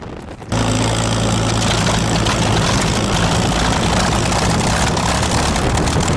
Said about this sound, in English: firing up the Spitfire, and he's going to lead 3 flypasts for the RCAF ceremonial parade.